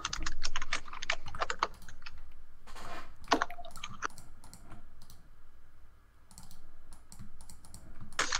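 Rapid clicking of keys on a computer keyboard, bursts of typing close by with short pauses between runs and a faint background hum.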